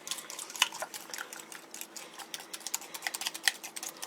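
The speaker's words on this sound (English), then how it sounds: "Alright, we're done mixing up this custard." A spoon or whisk mixes custard in a bowl, making quiet, irregular clinks and scrapes against the sides, with no talking.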